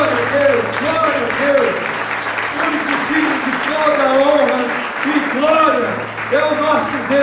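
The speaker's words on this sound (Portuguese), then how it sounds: "Vamos aplaudir ao Senhor, amém?" Church congregation applauding during a worship service, steady clapping throughout with a voice speaking or singing over it.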